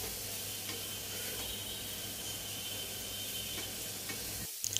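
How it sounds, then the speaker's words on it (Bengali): Vegetables for fried rice seasoned with salt and black pepper frying in a pan, a soft steady sizzle with light stirring, faint and even throughout, ending with a brief clatter. "আর একটু নেড়েচেড়ে দিলাম।"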